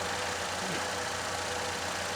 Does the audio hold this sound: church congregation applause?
no